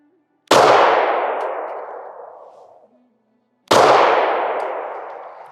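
Two loud, sharp shots from a 9mm pistol, Beretta or Taurus, ring out at a range, several seconds apart, each followed by a long fading echo.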